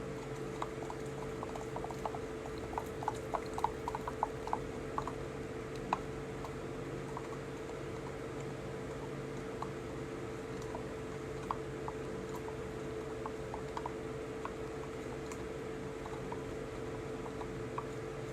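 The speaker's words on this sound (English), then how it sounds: "So I'm stirring that all up in there." A spoon stirring a thick lemon cake glaze in a bowl, making faint, scattered clicks and soft scrapes that cluster in the first few seconds and then thin out into quiet stirring.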